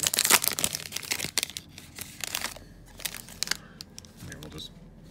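Foil trading card packs of 2020 Panini Prizm Draft Picks being torn open, with loud crinkling and tearing bursts at the start, then quieter rustling and handling throughout as a person talks over it.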